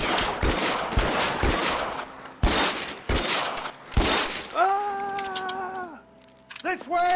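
Bursts of gunfire from the L.A. Noire video game crack out in loud repeated volleys, with in-game voices talking between shots and a sustained tonal sound near the end.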